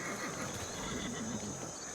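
A horse neighs and whinnies in Ancestors: The Humankind Odyssey, a wavering call over a steady game ambience, with light clip-clop of hooves mixed in.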